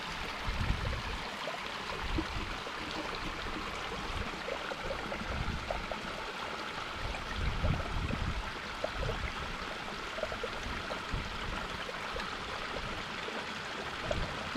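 A mountain stream along the Tour du Mont-Blanc trail, its water rushing in a steady, close, broadband wash with small gurgles and no pauses.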